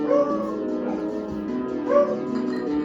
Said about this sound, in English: the Hounds of Hell are howling